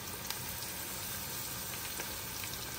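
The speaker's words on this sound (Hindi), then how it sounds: "उसके बाद उसको मीडियम फ्लेम पे सारे विंग्स हम फ्राई कर लेंगे" Chicken wings fry in hot oil over a medium flame, a steady, even sizzle and crackle throughout with no speech.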